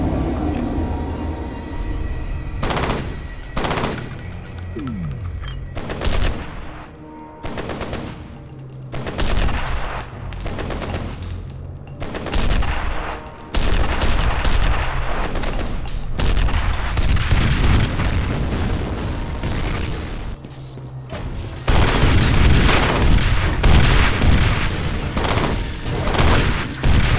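Shotgun blasts in the video game F.E.A.R., heavy booming reports fired in bursts throughout amid loud in-game combat noise, with no talking.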